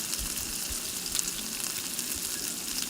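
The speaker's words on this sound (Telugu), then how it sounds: "కొత్తిమీర, కొంచెం పుదీనా వేసుకొని ఫ్రై చేసుకుందాము." Coriander and mint frying in oil for a chicken curry, a constant bright sizzle and spatter with faint stirring sounds, close and even throughout.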